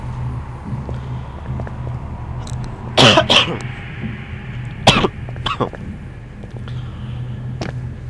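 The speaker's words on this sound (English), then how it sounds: "Damn my bloody cough." A man coughs in a first-person horror video game, giving a few harsh, close bursts over a low ambient hum, followed by scattered quieter coughs and throat noises.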